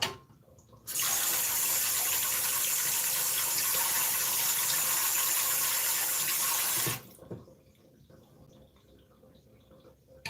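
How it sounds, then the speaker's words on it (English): Tap water runs steadily for about six seconds while a hand is rinsed, a loud broadband gush that starts abruptly and cuts off sharply, leaving quiet room sound. "Rinse my hand, dry it off."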